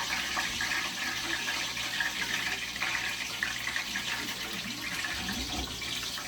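Tap water runs steadily into a cooking pot in a home kitchen, a continuous close gushing splash that holds at even loudness for several seconds, with a slight change in tone near the end.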